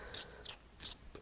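Short scraping bursts from a travel color pencil being sharpened, about four quick rasping strokes at an even rhythm, close and fairly quiet with no talk.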